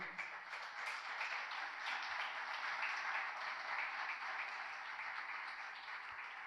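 A church congregation applauds during a sermon, giving a steady, even wash of clapping from many hands that holds for several seconds without a break.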